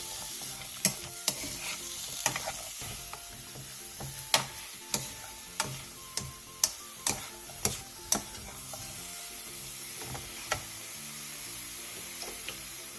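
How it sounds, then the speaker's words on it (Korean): Sliced zucchini stir-fried in a dry pan over medium-low heat, a soft steady sizzle broken by sharp clicks and taps of a utensil scraping and knocking the pan, close and without talk. "팬에 애호박을 넣고 중약불에서 호박이 노란빛을 띠고 살짝 흔들었을 때 살랑거릴 정도로 볶아주세요."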